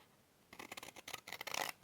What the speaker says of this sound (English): backed with the lined paper now, and using some good scissors